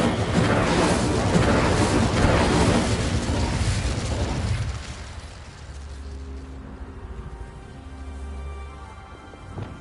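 An Incendio fire spell is cast in the video game Hogwarts Legacy, producing a loud, dense roaring burst of flame that holds for several seconds and then drops to a quieter crackling rumble with faint tonal game sounds.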